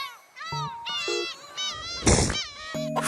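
A seal sneezes in one short, sharp, breathy burst, set among other animal-like calls and tonal voices.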